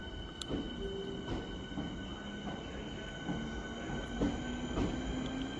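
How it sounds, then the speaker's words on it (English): Southeastern train bound for Bromley North departing Elmstead Woods station, with rumbling wheels, rhythmic clicks over rail joints and faint squeals as it pulls away at moderate distance. "departing now is the Southeastern service bound for Bromley North"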